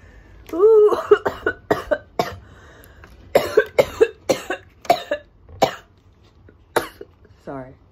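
A person coughs repeatedly after a hit from a sativa disposable vape, a harsh burst of spaced, near coughs with throat clearing between them, and brief voiced sounds mixed in.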